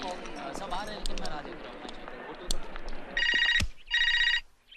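A telephone rings in two loud bursts of electronic trilling near the end. Before that come busy indoor sounds and voices talking.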